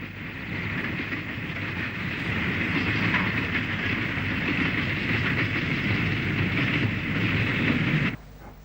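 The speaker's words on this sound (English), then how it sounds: "A dirty Black 5 hauls along goods past Fossway Level Crossing between Lichfield and" A dirty Black 5 steam locomotive hauls a goods train past Fossway Level Crossing between Lichfield and Brownhills. Its loud, continuous rumble and rattle of wagons holds steady for several seconds and then stops sharply near the end.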